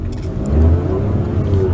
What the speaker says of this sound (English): Whoa, this car is so fast.